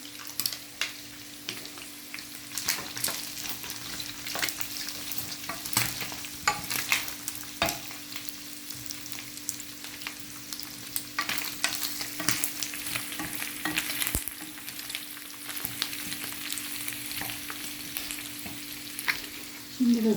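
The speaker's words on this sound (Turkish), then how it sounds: "Şimdi de soğanlarını koyacağım." Chopped onions sizzle steadily in a frying pan as chicken gizzards cook, with frequent scraping and clicking stirs of a utensil over the continuous close, moderate fry.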